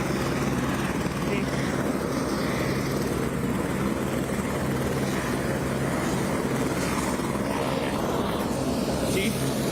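A helicopter idles as it is readied for takeoff in a parking lot, a steady loud rotor and engine drone filling the scene throughout, with voices faintly audible beneath.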